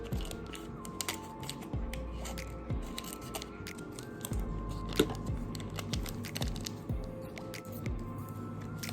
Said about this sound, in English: And just cut it into chunks.